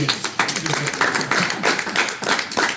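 Applause from an audience at a university debate event, a steady dense patter of many hands clapping throughout, fairly close and continuous with slight swells in intensity.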